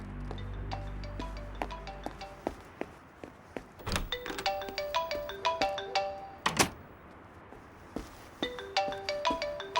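A telephone rings late at night with a melodic electronic ringtone, its chiming bursts repeating in clusters and broken by a couple of sharp thumps, with no one speaking.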